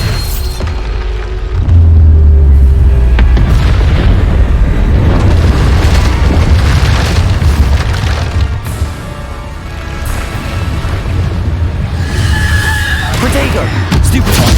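Bombarda spell blasts go off during combat in the video game Hogwarts Legacy, loud booming explosions layered over dense, continuous battle noise, with voices mixed in among the impacts.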